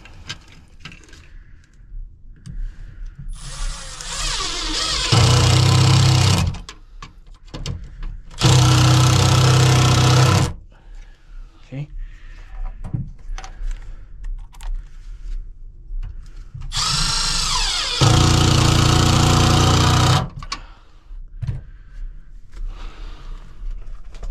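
A power driver whirs in several bursts of a few seconds each, driving screws to secure an electrical junction box to a wood stud, with quieter handling and tool clatter between bursts.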